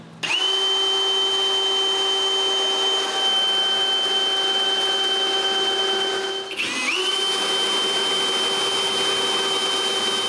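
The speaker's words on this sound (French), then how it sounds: "je peux me servir des trous que j'ai faits pour percer des trous sur le bas des séparateurs" Power drill boring holes in the bottom of wooden dresser dividers for a nine-drawer chest, a steady loud whine running throughout with one brief dip in speed partway through, no talking.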